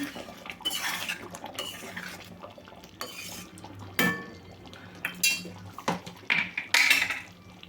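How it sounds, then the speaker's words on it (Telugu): A spoon scrapes and clinks against a pan as paneer pieces are gently stirred into a butter masala curry, giving a run of sharp metallic taps and scrapes with no talking. "పన్నీర్ ముక్కలు మొత్తాన్ని అయితే వేసేసుకున్నాను లైట్గా ఒక్కసారి కలుపుకోవాలి"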